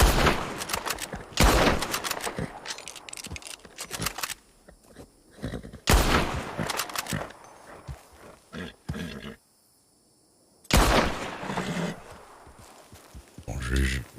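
Bolt-action rifle shots in a hunting video game, several sharp loud blasts spaced a few seconds apart, each with a trailing echo, over a voice talking between them.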